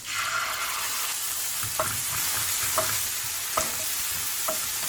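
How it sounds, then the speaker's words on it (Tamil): Green chilli, onion and chilli paste sautéing in a pan for a crispy chilli potato dish: a loud, steady sizzle with regular scraping stirs about once a second, close up and without talk. "பச்சை மிளகாய், வெங்காயம், மிளகாய் சாந்து இந்த நேரத்துலேயும் சேர்த்து வதக்கிக்கலாம்"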